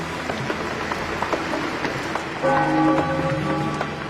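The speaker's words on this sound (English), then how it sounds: "The rain continues a second day." Steady rain falls in Teziutlán during the October 1999 downpour, a continuous broadband patter close by, joined in the second half by a brief, louder tonal hum.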